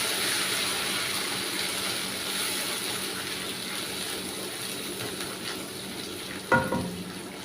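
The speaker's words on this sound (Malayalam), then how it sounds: "ഈ കറിവേപ്പിലയും ചെറിയ ഉള്ളിയും മല്ലിച്ചപ്പും വെളിച്ചെണ്ണയിലാണ്ട് മൂപ്പിച്ചിട്ടുണ്ടല്ലോ" Curry leaves, shallots and coriander leaves frying in coconut oil give a steady, moderately loud sizzle throughout, broken near the end by a brief sharp clatter of a utensil against the pan.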